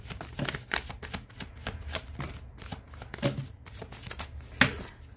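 Tarot cards being shuffled by hand, a quiet close series of rapid riffling and flicking bursts in an uneven rhythm.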